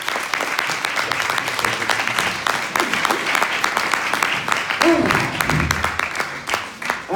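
An audience at a hypnosis show breaks into loud, sustained applause, dense rapid clapping from a nearby crowd with a few voices rising briefly in the middle.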